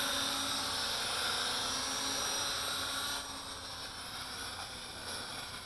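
A Syma X9 Flycar drone car in flight, its rotors giving a steady high-pitched whine that drops a little in level partway through as power fades, close by, with no talking.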